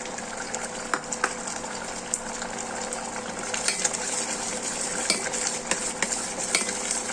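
A spoon scrapes and stirs thickening star fruit jam with ghee in a pan, a steady soft sizzle broken by occasional sharp clinks, close and without talk.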